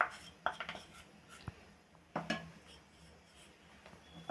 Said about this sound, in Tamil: ஆட் பண்ணிவிட்டு நல்லா இப்படி மிக்ஸ் பண்ணிகிட்டே இருக்கணும்.